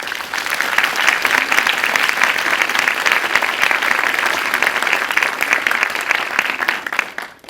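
Audience applause at an award ceremony, a dense sustained burst of clapping from a crowd that holds steady for several seconds and then quickly fades out.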